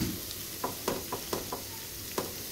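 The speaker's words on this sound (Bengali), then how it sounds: "মোটামুটি একটা উনুনের আঁচ রেখে আমি কিন্তু এগুলো ফ্রাই করে নিচ্ছি" Chopped ginger and green chilli fry in a pan over moderate heat, giving a steady low sizzle with a few sharp stirring clicks and scrapes spaced through it. No one speaks.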